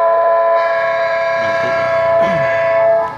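A train horn sound played through a three-button horn module, blaring as a loud sustained multi-tone chord that holds steady for about three seconds before cutting off.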